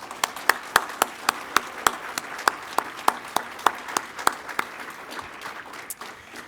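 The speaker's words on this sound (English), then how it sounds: "Please join me with a round of applause to thank all of the men and women who have served our country" Applause at a campus commencement ceremony honoring military veterans, with a few sharp, distinct claps standing out near the microphone over a softer spread of clapping from the crowd.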